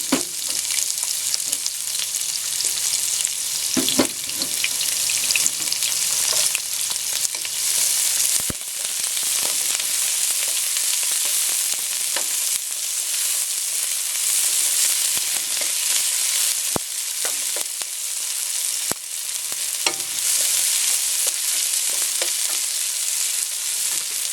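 Onions sauté in a hot pan for Filipino pancit bihon guisado, a steady loud sizzle and frying hiss running throughout with occasional stirring scrapes and clicks, no talking.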